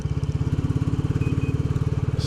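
Royal Enfield Bullet 350 single-cylinder engine running at a steady idle, a deep even thump-thump pulse close up with no talk.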